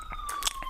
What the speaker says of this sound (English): Forgive the sirens.